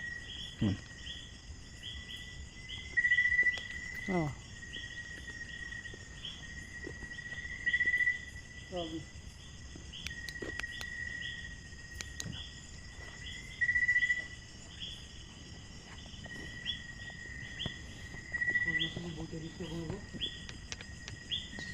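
Crickets chirp at night along a mountain road, a steady shrill trill that runs throughout with regular louder pulses, while a few brief words are spoken nearby.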